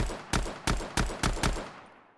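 Five quick game gunshots from a modded Minecraft gun, sharp and punchy, fired in a rapid irregular burst at roughly three per second, loud and close, with a short echoing decay after the last one and no talking.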